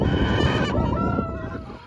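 A crowd of chickens clucks and squawks loudly at close range on a farm, a dense clamor that eases slightly toward the end.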